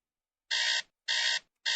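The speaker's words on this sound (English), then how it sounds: "Beep beep beep beep." Alarm beeping before a futures market open, three loud electronic bursts each lasting about a third of a second, evenly spaced and alone with no talk.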